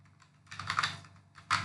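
Fingers type on a computer keyboard while entering Python code, producing quiet clustered bursts of key clicks with short pauses between them and a final flurry of strokes.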